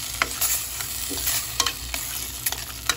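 Mushrooms and a splash of water going into a sizzling pasta sauce in a frying pan, steady hiss and bubbling with several sharp clicks and scrapes from a utensil, close and without speech.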